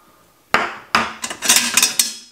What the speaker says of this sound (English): tie wraps. I'm going to cut them open.